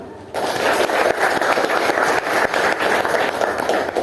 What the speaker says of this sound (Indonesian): Tepuk tangan kepada temannya dulu.